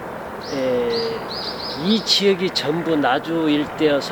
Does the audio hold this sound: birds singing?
yes